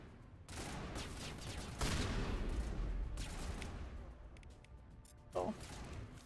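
Gunfire rattles through a firefight in the video game Mass Effect, a dense continuous wash of shots with a louder burst near the middle and a sharp crack near the end.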